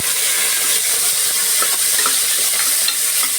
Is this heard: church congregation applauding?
no